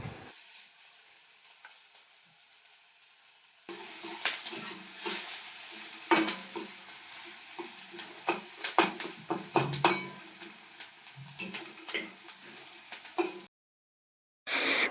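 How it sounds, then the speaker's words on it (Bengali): Chopped onions sizzle in a wok, with a steady frying hiss punctuated by scraping and clinking of a utensil stirring against the pan, close and clear with no talk. "এখন দিয়ে দিচ্ছে কড়াইয়ের মধ্যে পেঁয়াজ কুচিগুলো,"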